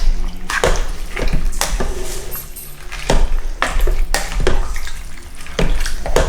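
Vegan Tuscan bean soup with beans and cabbage is stirred in a pot, a close series of wet sloshing swirls and sharp utensil knocks against the pot at an uneven rhythm.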